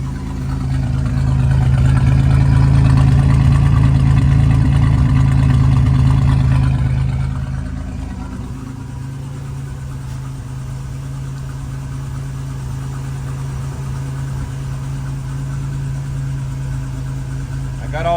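A 1987 Buick Regal Limited turbo engine idles steadily nearby with a deep, even rumble. It is louder at first, then eases to a quieter, smooth idle for the remainder.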